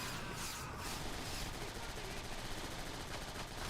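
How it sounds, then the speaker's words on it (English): Strafing run in Transformers: War for Cybertron: a loud, sustained burst of rapid machine-gun fire rattling continuously for several seconds, with a brief crackling hiss near the start. "Nice little strafing run."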